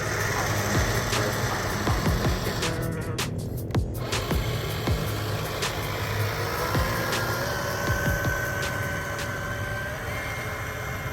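An RC boat motor runs steadily on a lake, a constant buzzing drone with faint vibration and a few sharp clicks, heard alone without talk.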